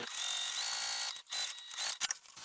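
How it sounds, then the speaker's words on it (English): A home sewing machine stitches fabric pieces for an organizer bag along a marked line, giving a steady close mechanical whir that breaks off briefly, then returns in short uneven bursts. "I'm going to start sewing directly on that line again"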